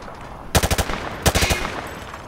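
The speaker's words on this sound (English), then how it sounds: "Grab that weapon off the table and fire at the targets behind you" Two quick bursts of automatic gunfire from a weapon fired from the hip at targets in Modern Warfare 2 Remastered, each a rapid rattle of five or six loud shots, separated by a short pause.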